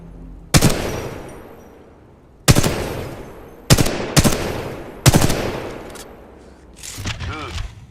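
Gunfire from a weapon in the video game Titanfall 2 rings out in five sharp, loud shots spaced a second or so apart, each with a rumbling tail, followed by a softer mechanical clatter.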